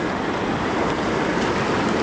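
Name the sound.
creek water flowing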